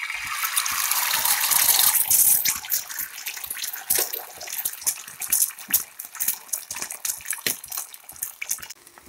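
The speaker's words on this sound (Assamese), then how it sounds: "এতিয়া ফেটি থৈ দিয়া কণীখিনি দি দিম।" Beaten eggs are poured into a pan for an egg roll, a close, splashy, gushing liquid sound that hisses at first and then breaks into crackling sizzle.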